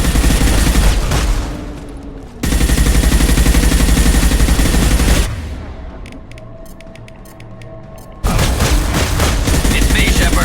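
A heavy weapon in Mass Effect 2 fires in long, loud sustained bursts, two roaring volleys separated by a quieter stretch, with the second burst starting just before the end.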